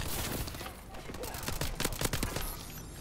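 Pistol fire in the video game Call of Duty: Advanced Warfare, several sharp shots in quick succession over a busy game mix, fairly quiet overall.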